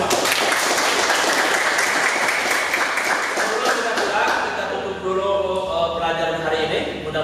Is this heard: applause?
yes